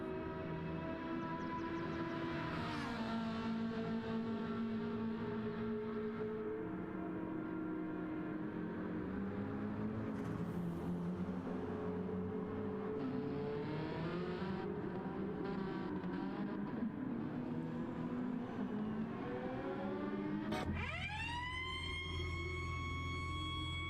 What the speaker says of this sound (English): you gotta love the sound of racing cars